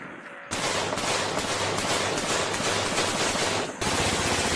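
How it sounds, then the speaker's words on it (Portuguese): Rifle fire in a dense, sustained volley, loud and close, filling the whole stretch with only a brief dip near the end. "é recebida a tiros de fuzil"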